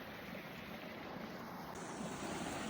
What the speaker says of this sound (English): So we got the waterfall going over, and we've got the bridge.